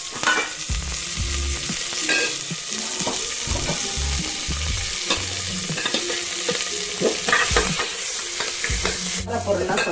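Onion, green chilli, curry leaves and coriander leaves frying in oil in a pan for a village-style country chicken fry, with steady loud sizzling broken by repeated stirring scrapes throughout.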